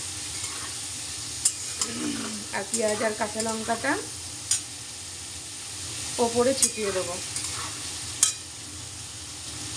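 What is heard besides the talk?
potatoes frying in pan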